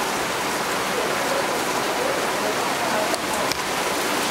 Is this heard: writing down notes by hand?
no